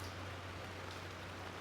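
Steady, faint rain falling in a continuous soft hiss, with a low hum underneath, outdoors on a Chicago street.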